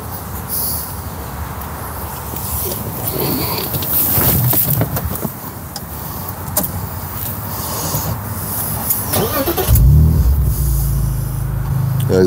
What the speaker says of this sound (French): Est-ce que tu peux me la démarrer, qu'on écoute cette belle ligne Eisenman chanter?